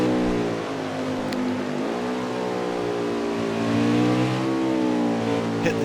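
Winston Cup race car engine at Canadian Tire circuit, heard from on board: a loud, steady roar with a rich harmonic whine that rises through the gears and dips briefly between pulls.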